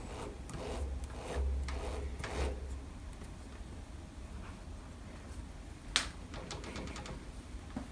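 A drive belt on an electronic leadscrew fitted to a lathe catches and rubs against wrongly installed pulley posts, producing faint, intermittent scraping and rasping bursts close by with one sharper click near the end.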